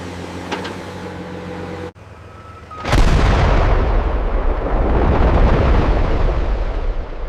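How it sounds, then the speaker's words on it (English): Low engine hum with a brief tone, then a sudden heavy controlled blast in a limestone quarry erupts into a loud, sustained rumbling roar of falling rock. "Controlled explosions unlock millions of tons of stone."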